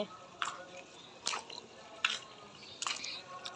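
Sipping hot water from a cup at home: four short, soft slurping sips spaced about a second apart, close and quiet against a faint background hiss.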